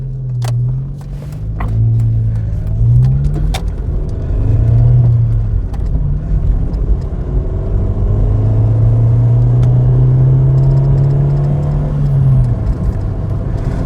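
A Ford Escort engine runs close by, its low rumble steady with slight rises and dips in pitch, mixed with scattered clicks and small knocks, and no one talking.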